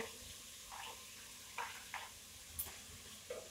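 Tomato dropped into a pot of dried vegetables cooked with peanut butter, a quiet, steady sizzle broken by a few soft clinks and stirring knocks, faint and close.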